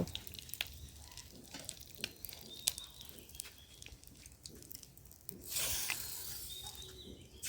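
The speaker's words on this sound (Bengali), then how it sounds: "এখন হচ্ছে আমি এই তেলের মধ্যেই মশলাগুলো দিয়ে তরকারিটা রান্না করে ফেলব" Spices tipped into hot oil left from frying fish for a Bengali curry give a faint, close crackle with scattered pops, swelling into a louder hiss of sizzling near the end.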